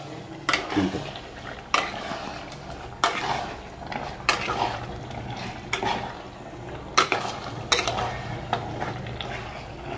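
Mutton fries in hot oil and masala in a pot, under a low sizzle, while a utensil stirs and scrapes against the metal in repeated clanking strokes, roughly one every second or two.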